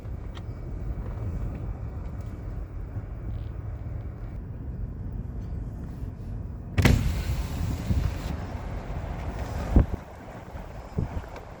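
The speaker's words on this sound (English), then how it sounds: "Some nasty wind." Strong winter wind gusts across a lighthouse pier, a steady roaring buffet against the microphone with louder bursts and thumps later on.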